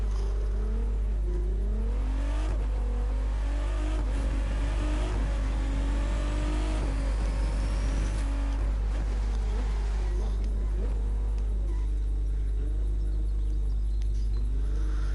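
A fast car with two central exhausts in The Crew 2 racing game, its engine revving, rising and falling through repeated gear changes over a constant low hum.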